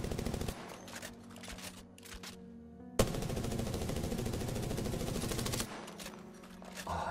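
Full-auto Prowler gunfire from the video game Apex Legends: rapid, loud bursts of automatic shots in a dense rhythmic stream, with short pauses between volleys.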